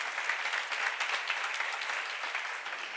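Steady applause from a church seminar audience, dense and even throughout, with no speech over it.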